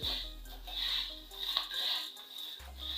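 Street-style bhel with farsan, chilli powder and salt is tossed in a bowl, quiet repeated scraping and light clinks of a spoon against the dish, close and soft.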